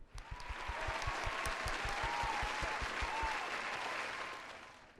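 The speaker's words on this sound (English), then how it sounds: "So everybody, please, round of applause for Michael." Podcast studio audience applauds for a guest, a dense burst of clapping with some whoops that swells and then tapers off over a few seconds, with no talk over it.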